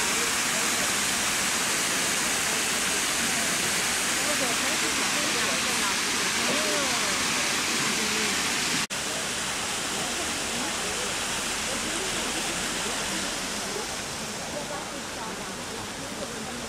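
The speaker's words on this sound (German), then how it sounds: "Mit einem künstlichen Wasserfall." An artificial waterfall at a tourist viewing tower along the Yangtze River in China sends out a steady, loud roar of rushing water that runs on without a break, briefly cut once partway through.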